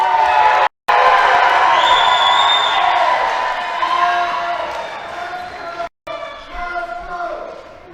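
Wrestling crowd at an indie four-corners match, a broad sustained roar of cheering and chatter filling the hall, loud and close, broken by two brief cuts, with a commentator's voice running underneath.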